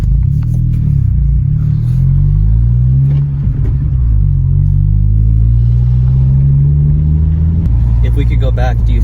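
A 2020 Honda Civic Si's 1.5-litre engine rumbles low and steady through an aftermarket street exhaust as the car pulls away from a stop and accelerates at low RPM, the exhaust note droning under people talking.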